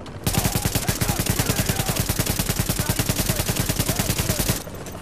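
Rapid automatic gunfire from the video game The Division, a loud, steady, evenly spaced burst of shots that runs almost without a break for about four seconds and then cuts off.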